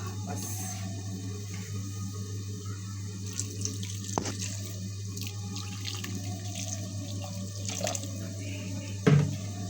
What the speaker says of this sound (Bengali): এখন আমি একটু সামান্য পানি দিয়ে ঢেকে দেব